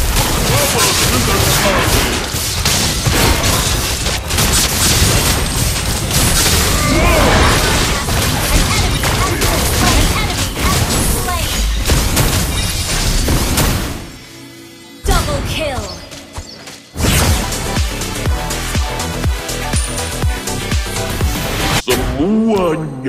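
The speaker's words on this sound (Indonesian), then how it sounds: "Your team destroyed the turret." Turret destruction explosion in the Mobile Legends video game: dense, loud crashing booms and impacts through most of the stretch, a brief dip near the middle, then more bursts, mixed with game announcer voice.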